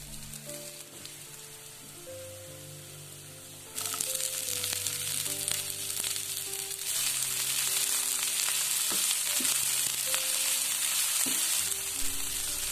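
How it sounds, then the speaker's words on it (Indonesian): Garlic, chili, shrimp paste and sugar sizzle steadily in a hot pan, with stirring scrapes throughout; the frying grows louder partway through as more ingredients go in, while a faint tonal hum runs underneath. "Setelah itu tumis sekalian cabenya sama terasi dan gulanya."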